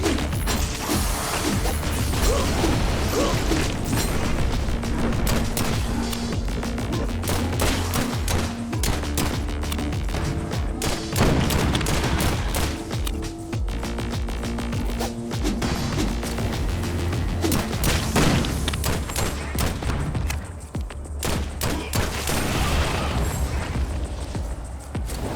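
Gunfire and heavy impacts in the cyberpunk roguelike Dark Light: Survivor, a dense, continuous barrage of shots and booms over a game soundtrack, loud and steady for the whole stretch.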